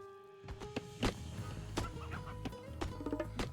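Chickens in Age of Mythology: Retold cluck in scattered, sharp bursts over a steady game ambience, fairly close and uneven in rhythm.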